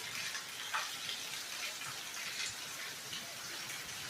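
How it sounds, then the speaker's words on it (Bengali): Heavy rain pours down continuously during a lightning storm, a dense hiss of drops drumming on surfaces with occasional louder splashes. "বৃষ্টিটা কিন্তু ভালোই জোরে হচ্ছে"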